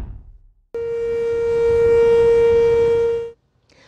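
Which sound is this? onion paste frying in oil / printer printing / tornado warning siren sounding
tornado warning siren sounding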